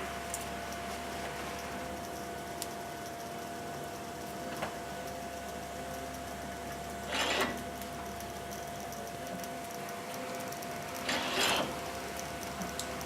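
A ColorFlare CF750 laminator feeds sheets with a steady mechanical hum and faint whirring, broken by two brief louder rustling pulses as sheets pass through the rollers.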